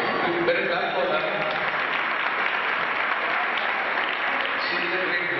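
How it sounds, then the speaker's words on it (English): Sustained audience applause at a 2008 Western classical concert, dense and steady throughout, with some voices mixed in beneath the clapping. "You better clap for her."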